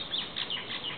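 A lovebird that landed in a backyard squawks in quick, shrill repeated calls, close and fairly loud, with no talking over it.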